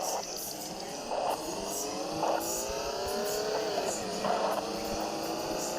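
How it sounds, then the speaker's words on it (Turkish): A small car's engine revs and accelerates in a mafia video game, steady mid-volume drone with repeated upshifts and rising pitch, no voices over it. "Bu araba bakalım ne kadar hızlı arkadaşlar."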